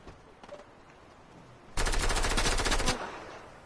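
Rapid automatic gunfire in a PS4 video game: a short, dense burst of machine-gun shots lasting about a second, loud and close, following quieter game ambience.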